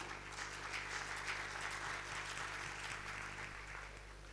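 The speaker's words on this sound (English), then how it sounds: "So it is my request for a big round of applause for Tushar and his team." Steady, dense applause from a large audience at an IT summit, a continuous wash of clapping at moderate distance over a low electrical hum, with no talking.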